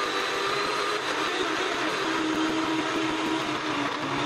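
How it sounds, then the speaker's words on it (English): A kitchen blender whirring as it blends a lemon drink with a little water, a steady loud continuous motor roar throughout, close and with no voices. "I only have a blender, so I'm gonna add a drop of water."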